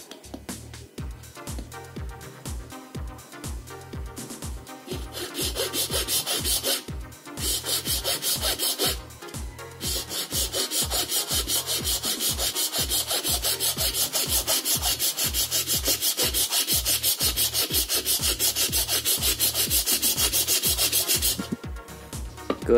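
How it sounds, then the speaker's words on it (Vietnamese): A hand saw for wood cuts through a coconut shell being shaped into a water ladle, making steady, evenly spaced back-and-forth rasping strokes that are close and fairly loud, with no talking. "Rồi, bây giờ mình sẽ cưa nha."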